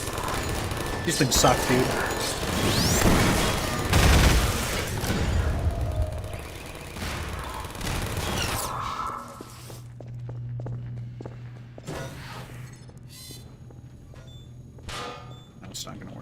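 Gunfire crackles in Half-Life 2 as rapid bursts of loud shots run for several seconds with clanking and footsteps. It then thins to sparser distant pops and a low hum, while someone talks over it.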